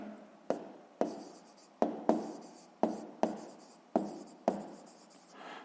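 Chalk or pen writing on a board during a sixth-grade math lesson on distance: about nine sharp, scratchy strokes in an even rhythm, close and clear with no talking.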